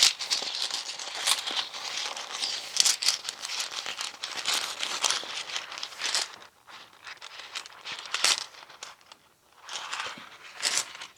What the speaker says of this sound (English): Let's draw some more runes.